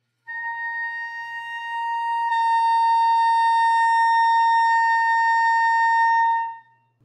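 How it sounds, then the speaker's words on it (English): A clarinet holds a high C with the register key released, a steady sustained tone lasting about six seconds with no talking. "I'm going to play a high C."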